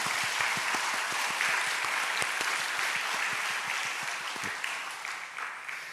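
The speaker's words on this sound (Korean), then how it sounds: "우리 격려의 박수 한번 해주시면 좋겠습니다" A church congregation at a Sunday worship service gives a sustained round of encouraging applause with clearly separate claps, fairly even throughout and fading slightly toward the end, with no talk.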